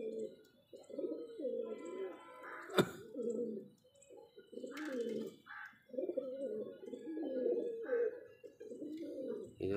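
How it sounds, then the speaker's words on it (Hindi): Two pigeons cooing close by in repeated throaty, bubbling phrases with short pauses between them, quiet background apart from one sharp click. "इन दोनों कबूतरों में हमेशा लड़ते रहते हैं"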